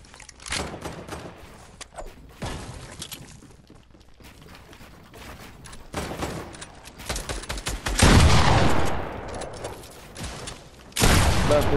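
Gunfire in a multiplayer shooter video game, with scattered shots early on, then dense bursts of rapid fire swelling loud near the end amid mechanical clatter.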